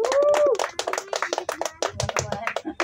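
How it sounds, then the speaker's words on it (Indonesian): A small audience at a poetry book discussion claps, the separate hand claps close and uneven and mixed with talking voices. "Boleh kasih tepuk tangannya dulu teman-teman"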